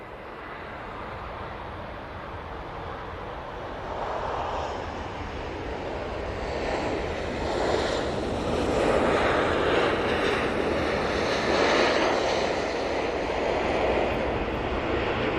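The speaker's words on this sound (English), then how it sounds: "Ryanair about to touch down. This is coming in from Dublin." A Ryanair jet touching down after a flight from Dublin at Manchester Airport, a moderate broadband engine rumble that swells gradually toward the middle and stays steady, heard from some distance under wind.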